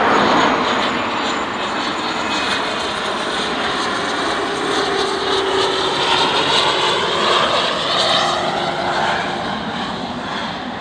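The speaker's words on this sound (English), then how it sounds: "We do have a Embraer Phenom from Embraer Phenom 300 from Cleveland." An Embraer Phenom 300 business jet at Dulles airport roars continuously and fairly loud, a broad whooshing engine sound with shifting tonal whine as it passes, no talking.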